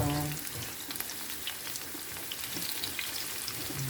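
Chopped onions frying in a pan while salmon and spinach are cooked, a close, steady sizzle with scattered crackles and spits throughout, fairly quiet and without speech.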